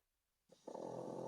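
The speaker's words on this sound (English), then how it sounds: "it's just a snoring pug" A pug snoring indoors, a quiet moment then a steady, sustained rasping snore that grows louder and holds, close by, with no talking over it.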